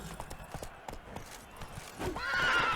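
Roach, a horse in The Witcher 3, clip-clops briskly and then lets out a loud whinny, with a person talking over the hoofbeats.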